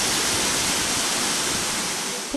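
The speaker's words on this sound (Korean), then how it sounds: "시원한 폭포물줄기가 쉴 새 없이 쏟아집니다." Waterfall water pouring down steadily at a mountain temple site in summer heat, a dense, continuous broadband roar heard up close, loud and unbroken, with no voices.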